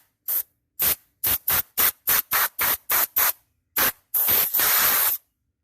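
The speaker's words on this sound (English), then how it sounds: "I got my compressor, I can blow my nails off" Air compressor blowing dust off thick toenails, heard as about a dozen sharp, close hissing bursts of air in an irregular rhythm, ending in two longer sustained blasts.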